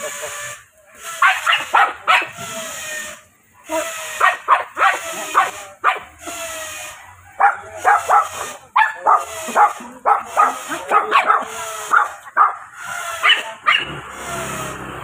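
Several dogs bark in repeated bursts, close and loud, with yips and whimpers between, and pauses of quiet in the middle.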